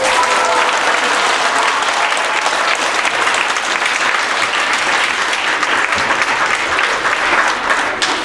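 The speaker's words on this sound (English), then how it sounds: "a round of applause for our very, very special guest performer, Mr. Obrotnik on the tuba." An audience in a school gym or hall claps for a guest tuba performer at an elementary school winter concert, loud sustained applause lasting the full stretch with faint crowd murmur underneath.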